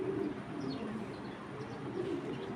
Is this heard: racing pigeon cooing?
yes